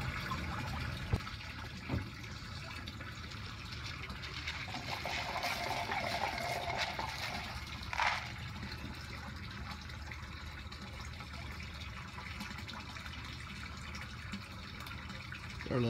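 Water pours steadily into an aquaponics tank in a new greenhouse, a soft continuous gushing and trickle that stays even throughout, with a few faint knocks.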